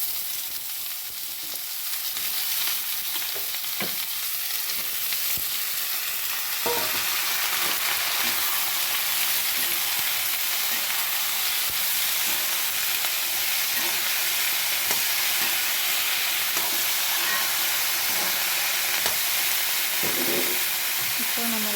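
Pumpkin pieces and onion sauté in a hot pan, a steady loud sizzle running throughout with scraping stirs and occasional clinks of the spoon.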